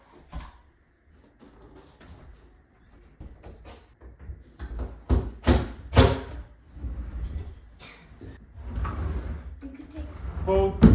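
Closet doors being adjusted and slid back into place, with a series of close scraping, rolling and knocking bumps of varying loudness, louder sharp knocks in the middle and a rattling slide near the end.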